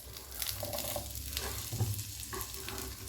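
Three sliced onions frying in a pan for an Afghani egg curry, a soft sizzle with scraping stir strokes and low thumps of the spoon, close and fairly quiet with no talking.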